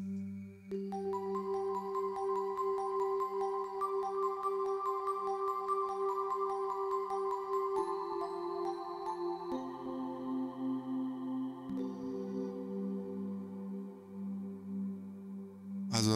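Quasimidi Technox synthesizer playing an ambient bell-like patch, sustained chiming tones layered over a steady low drone, with the chord and bass shifting a few times and no talking throughout.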